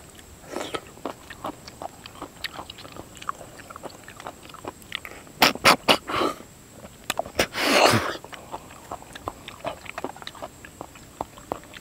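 Wet, close slurping and sucking bursts while eating field snails cooked in a herby Thai curry, with irregular loud sucks amid smaller smacking and chewing clicks, no talk.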